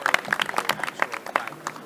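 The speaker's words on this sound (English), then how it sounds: "Big round of applause for our judges." An audience at a health tech competition gives a short, light burst of scattered clapping, uneven and fairly sparse.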